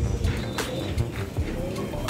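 A sick pigeon gives soft, low repeated coos at close range amid a muffled, noisy background, with faint clicks and brief higher chirps scattered through the two seconds.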